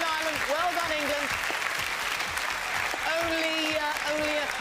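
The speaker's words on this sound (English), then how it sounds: "you can give them a round of applause" A studio audience claps steadily through the whole stretch while a presenter keeps talking over it. The applause is bright and dense, a quiz-show results reveal for the nations of the UK.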